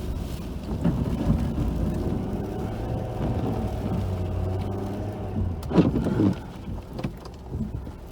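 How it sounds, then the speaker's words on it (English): A vehicle fitted with a big Western plow blade pushes snow during a winter storm in Halifax, Nova Scotia, giving a steady engine rumble and scraping drone with a brief louder clank near the end. "Good thing about this big Western blade is once you get it rolling, it takes quite a bit to stop it."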